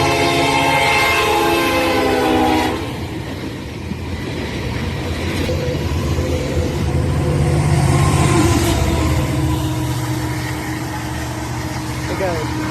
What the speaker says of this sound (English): That train originates out of Chicago, Illinois at the CN Yard and heads east to the Port of Albany.